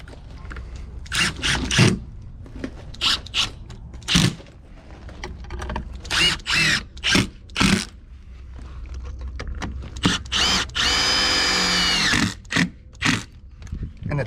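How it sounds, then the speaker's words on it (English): A power drill drives anchors into a brick wall in a series of short, loud whirring bursts, then one longer sustained whine as a fastener is run in, close by with brief pauses between. "And now we take our drill and simply drive them in."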